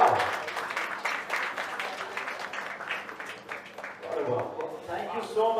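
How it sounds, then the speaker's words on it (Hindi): Audience applause at a film production company's launch event, steady clapping from a crowd with cheering voices and some talk mixed in across the whole stretch. "जोरदार तालियां"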